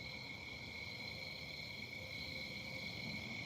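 Night insects chirp steadily by a fishing dock, a thin continuous high trill with a second tone above it, faint and unbroken, over a low background hiss with no talk.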